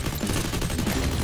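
Rapid gunfire from Free Fire rattles through a brief, dense burst of overlapping shots at moderate loudness.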